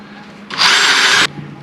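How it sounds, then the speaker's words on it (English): A single loud, close burst of a power drill with a 3/16 bit drilling holes in a Perception kayak, spinning for under a second, with a quiet low hum before and after. "Now, I'm going to drill them out to size."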